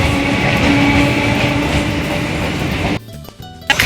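A train pulling into Shimurali station, a loud continuous rumble of rail cars rolling close by for several seconds before cutting to quieter, broken noise at the end.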